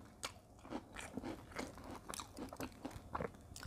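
Crispy batter-fried durian being bitten and chewed, a run of close, crunchy bites and crackling chews in an irregular rhythm, fairly quiet with no talking.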